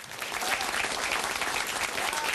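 Audience applause fills the chamber as John Stossel enters for his State of the Union address, a dense, steady clapping from a large crowd that holds at an even level throughout, with no voices rising above it.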